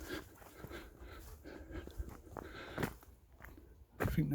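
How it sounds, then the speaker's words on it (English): A dog near a walking trail on a wooded hill pants in short breathy bursts, close by, with footsteps and a few brief louder rustles. "a dog that looks like it wants to come see me"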